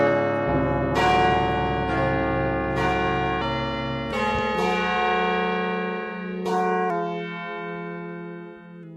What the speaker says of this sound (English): Hear the bell go off.